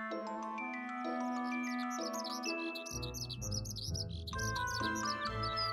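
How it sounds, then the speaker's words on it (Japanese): A skylark sings, its quick, repeated high chirps and trills running over a sustained, tinkling musical backdrop for the whole stretch. "ひばりだ、"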